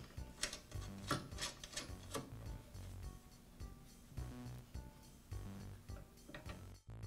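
A nut being tightened on the height adjustment lever of a Southland lawn edger, heard as quiet close ratcheting clicks and small metallic taps in a repeating rhythm, with no voices.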